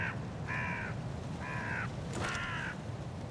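Crows caw in the sZone Online video game, four harsh calls spaced at a steady rhythm over a constant low ambient hum, fairly near and clear.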